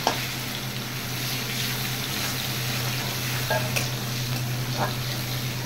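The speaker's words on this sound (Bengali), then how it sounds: "হাতে নিয়ে খুন্তি পেঁয়াজ ভাজা করি" Chopped onions fry in a hot pan while being stirred with a spatula, giving a steady close sizzle with light scraping and stirring.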